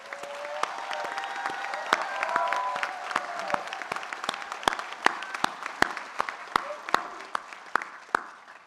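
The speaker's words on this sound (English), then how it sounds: "Let's give them a round of applause." Applause from the audience at a fire-rescue academy graduation ceremony, dense clapping that thins out into scattered, distinct individual claps toward the end.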